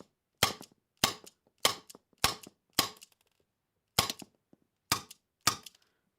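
A Tanaka S&W Model 36 Ladysmith airsoft revolver fires eight sharp, snappy BB shots at a steady pace with a short pause midway, each crack quick and dry with a faint thud after.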